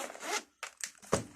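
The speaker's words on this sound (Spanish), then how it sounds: "Entonces si le abrimos la cremallera" The zipper on a Reina Valera 2020 Bible's cover is drawn open in a few short, close rasping pulls separated by brief pauses.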